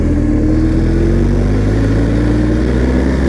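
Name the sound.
adventure motorcycle riding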